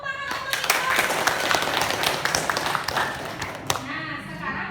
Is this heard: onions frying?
no